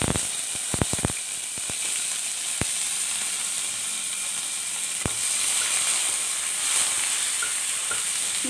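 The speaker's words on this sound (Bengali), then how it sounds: "নিম পাতাগুলোকে আমি একটু ভালো করে ভেজে নেবো, যতক্ষণ পর্যন্ত নিম পাতাগুলো কালো কালারটা না হয়ে যাচ্ছে" Neem leaves frying in hot oil give a steady bright sizzle, with a few sharp clicks and knocks from stirring near the start and one more partway through.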